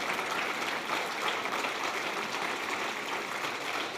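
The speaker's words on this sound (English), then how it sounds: "give them a warm round of applause." An audience at the 2023 Wolf Prize ceremony applauds the laureates, a steady, even wash of clapping from a large crowd that continues without a break.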